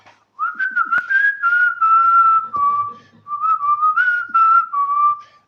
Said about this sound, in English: I'm whistling the tune, a Shabbat tune.